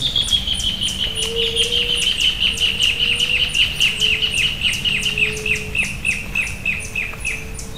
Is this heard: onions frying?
no